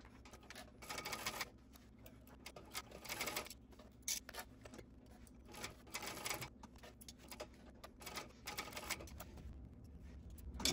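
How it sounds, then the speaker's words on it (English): A sewing machine stitches and back tacks the side seams of a bag in several quiet, uneven bursts with short stops and ticking between runs. "I'm gonna back tack at the start and the end of my seams and I will do all four."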